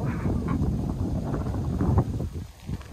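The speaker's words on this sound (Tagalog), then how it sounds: "Super lakas ng hangin dito." Strong wind buffets outdoors among shedding flowering trees near a house, a loud, continuous low rumble that dips slightly toward the end.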